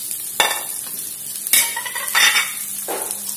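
Chicken in Manado-style bumbu RW spices, stirred with spring onions in a frying pan: a few sharp utensil scrapes and clatters over a soft, steady sizzle, close and moderately loud, with no talking.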